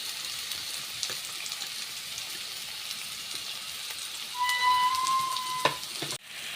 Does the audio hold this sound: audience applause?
no